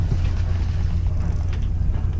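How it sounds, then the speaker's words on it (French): A steady low boat engine rumble in reverse during harbour manoeuvres, with creaking and mechanical clatter, continuous throughout, close by and moderately loud. "je recule avec le moteur."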